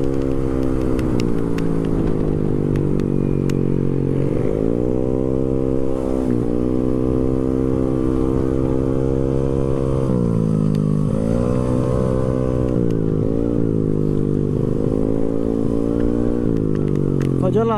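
A Honda Beat 115cc scooter fitted with a racing exhaust drones loudly and continuously at speed, its pitch sagging and climbing again as the throttle changes, with no talk over it.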